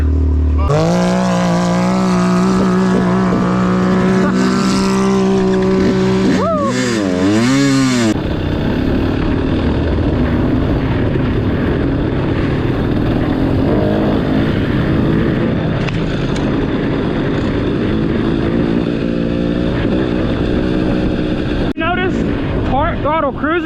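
Loud revving from a 2022 KTM 300 two-stroke dirt bike engine fitted with a full FMF exhaust, with rising and falling throttle sweeps followed by a steady cruising drone, recorded up close with wind noise.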